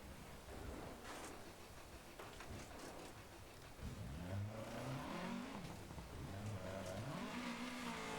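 A Dirt Rally 2.0 rally car on a Scottish stage loses control, with engine revs rising and falling, scraping and tumbling as it rolls over twice, busy and continuous without speech.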